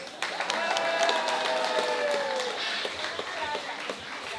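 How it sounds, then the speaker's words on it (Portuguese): An audience at a youth carnival queen presentation gives a round of applause, moderately loud clapping across the room with voices mixed in, fading slightly toward the end. "Um aplauso para os amigos."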